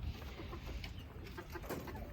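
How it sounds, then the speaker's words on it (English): A flock of chickens clucks softly in short scattered calls, faint and close, over a steady background hiss. "Look at all those chickens."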